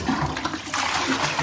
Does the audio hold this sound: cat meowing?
no